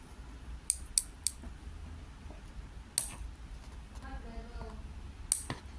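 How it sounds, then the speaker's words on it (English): A Boeing 787-8 model plane box is cut open: a few sharp, close snips and cuts, followed by faint crinkling of packaging in a quiet room. "let's cut it open"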